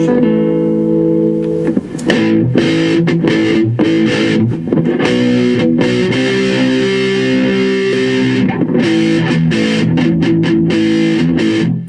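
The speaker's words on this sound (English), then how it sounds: "See what it sounds like with a bit of crunch." Gibson Les Paul Studio electric guitar with swapped pickups, played through crunch distortion: sustained overdriven chords and bent notes ring out loud and continuous for about twelve seconds, with no voice.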